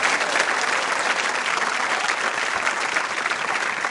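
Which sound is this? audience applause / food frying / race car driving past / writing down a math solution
audience applause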